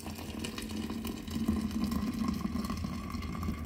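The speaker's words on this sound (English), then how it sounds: "Then we'll take boiling water and slowly pour it in" Boiling water poured slowly into a dirty thermos during cleaning, a steady low gurgling rush that holds at an even, fairly faint level throughout with no voices.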